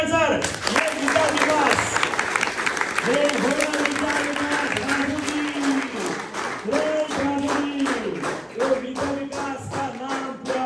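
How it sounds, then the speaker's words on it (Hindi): Students in a maths class break into loud, sustained applause after a correct answer, the dense clapping running throughout under a talking voice. "जोरदार तालियां"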